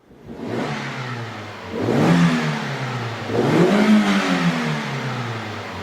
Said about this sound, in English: Now let's rev it 3 times.